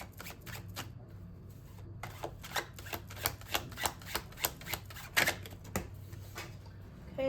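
Tarot cards being shuffled by hand, a close run of crisp riffling flicks and slaps in a quick, regular rhythm, quiet background, no talking.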